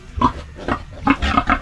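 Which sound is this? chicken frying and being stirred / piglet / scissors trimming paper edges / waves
piglet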